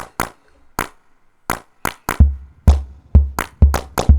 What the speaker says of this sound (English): So if we play our clap sound